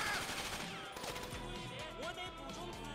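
Rapid gunfire crackles in bursts through a Grand Theft Auto firefight, fairly faint and mixed with other game sounds and a talking voice.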